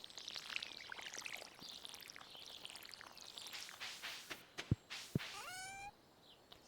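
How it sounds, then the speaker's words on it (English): Water pours from a watering can onto potato crops in the video game Stardew Valley, a soft splashing trickle that ends in a couple of sharp plinks and a short rising chime. "Water our potatoes."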